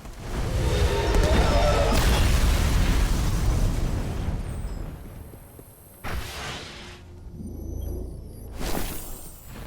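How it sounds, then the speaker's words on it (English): Gatekeeper enemy exploding during a three-player Vault of Glass raid in Destiny, a loud sustained blast with rumbling low end over the first few seconds, then further bursts and game effects follow. "Again, watch out for that exploding Gatekeeper."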